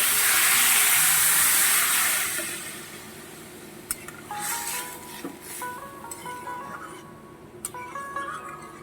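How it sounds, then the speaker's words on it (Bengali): Water poured into a hot pan of mixed vegetables and lentils bursts into a loud steaming hiss that fades over a couple of seconds into quieter bubbling and a few light clinks, close by with no talking. "এবার আমি পরিমাণ মতন জল দিয়ে দেব"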